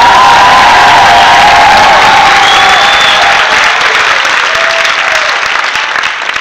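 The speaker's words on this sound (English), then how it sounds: "Let's everybody just have one thunderous cheer for Lori." Loud, close audience cheering and applause fills the room at an evening event, dense clapping with shouts and whoops at the start, then slowly thinning toward the end.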